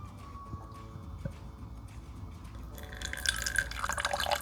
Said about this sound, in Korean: 수돗물이에요. 수돗물.